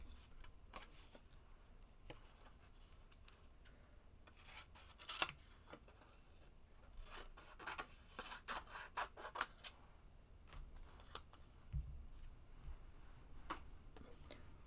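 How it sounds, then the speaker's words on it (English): Scissors fussy-cut around a stamped paper bee with soft, close, irregular snips and rustling paper, quiet and alone without speech. "We're going to fussy cut this out."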